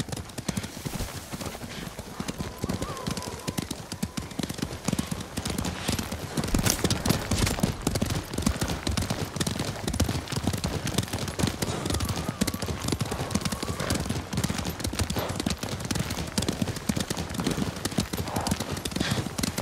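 Horses' hooves clip-clop steadily on the ground in the video game Ghost of Tsushima, a close, rhythmic patter of several animals continuing throughout, with a brief whinny and some voices talking over it.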